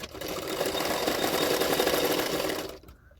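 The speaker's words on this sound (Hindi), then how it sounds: "अभी ये दोनों पार्ट भी मैं सिलाई कर रही हूँ।" A sewing machine runs steadily, stitching along the edges of a blouse's lining fabric with a fast, even mechanical rattle that stops abruptly near the end, with no talk over it.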